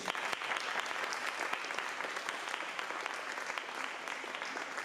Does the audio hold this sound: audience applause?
yes